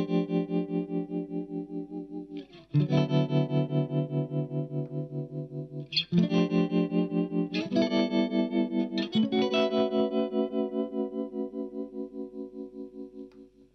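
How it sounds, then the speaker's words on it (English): Electric guitar chords played through an Eventide UltraTap delay pedal on its Tremblance tremolo preset, loud and alone, with three or four strummed chords whose volume pulses rapidly up and down in a steady throbbing rhythm. "So there we've got a kind of tremolo sound."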